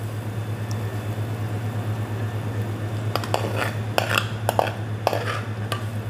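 Chicken going onto a serving plate, a run of light clinks and scrapes of utensil against the plate in the second half, set over a constant low hum, with no talk.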